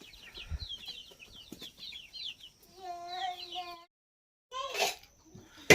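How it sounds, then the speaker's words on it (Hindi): Chickens being chased on an Indian farm give off bursts of high clucking and squawking, scattered and fairly close, broken by brief quiet gaps and a sharp noise at the end. "उस साइड में पद्मा देख सकते हैं कैसा दौड़ा रही मुर्गियों को।"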